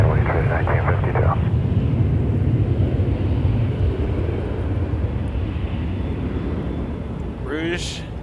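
Jet airliner rolling for takeoff at Toronto Pearson Airport, a steady broad engine roar with deep rumble holding loud throughout, with radio chatter at the start and a brief voice near the end.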